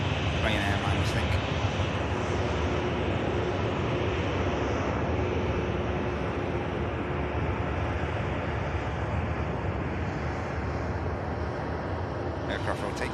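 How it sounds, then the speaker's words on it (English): A Ryanair airliner bound for Barcelona takes off from Manchester Airport, its engines a steady, distant roar with wind noise throughout. "Aircraft rotates and climbs."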